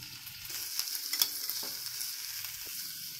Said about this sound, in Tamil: வெங்காயம் வதங்கிடுச்சு, கட் பண்ணி வச்ச காய்கறியை சேர்த்து வதக்கலாம்.